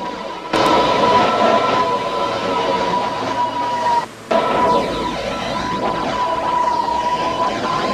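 An R211 M subway train running in a Roblox game, a loud, continuous rail rumble with a steady high whine, one brief drop-out near the middle, and no talk.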